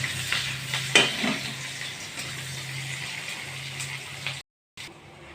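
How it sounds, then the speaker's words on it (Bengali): Chopped onion and slit green chilli hit hot oil in a pan, a soft sizzle under brief stirring scrapes and a clink of a spoon, fairly quiet, with no talking. "এবার সেই পেঁয়াজ কুচি আর কাঁচা লঙ্কা চেরাটা দিয়ে দিলাম, দিয়ে এটা ভালো করে লাল করে আমি ভেজে নেব।"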